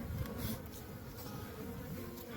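Honeybees humming at a hive during a mid-winter hive check, a steady dense buzz close by with no pauses and no talk.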